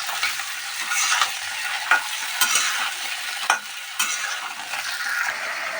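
Green peas stirred in hot oil with a pinch of salt in a kadai, giving a steady close sizzle broken by several sharp scrapes and clicks of the spoon against the pan.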